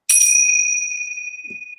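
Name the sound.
tingsha bells ringing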